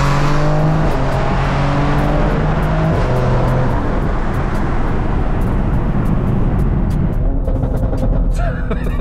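A BMW X3M tuned to 830 bhp revs hard and loud, its engine note climbing and holding in sustained pulls with rising harmonics, close and dominant throughout, easing off near the end.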